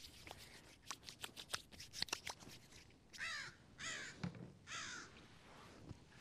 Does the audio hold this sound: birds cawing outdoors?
yes